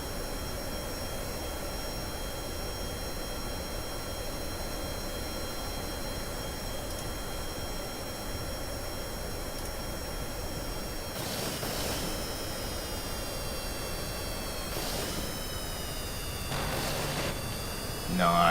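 Two identical aircraft dogfight in Kerbal Space Program with BD Armory, their engines a steady droning whine beneath a speaking voice, with a few brief rushing swells near the end.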